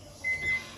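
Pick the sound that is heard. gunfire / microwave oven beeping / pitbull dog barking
microwave oven beeping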